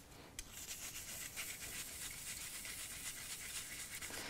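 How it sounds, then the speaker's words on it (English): Brass bristle brush scrubbing metal back and forth, a close, soft, steady rasping rub that continues without pause, quiet, with no voices. "I'll just start to gently scrub back and forth"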